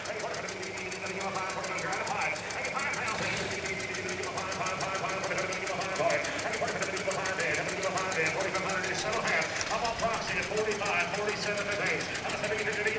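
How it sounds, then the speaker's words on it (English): A tractor engine with a straight pipe exhaust runs with a steady, rough knocking chug, heard up close while someone talks over it. "it's got that straight pipe on it, so it's got that good throaty sound when you crack the throttle"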